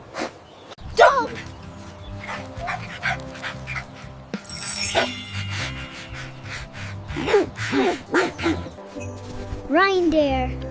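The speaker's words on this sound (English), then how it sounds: "Dog." A dog gives short barks, whimpers and yips in bursts over about ten seconds, with panting and snuffling sounds and some background noise between the calls.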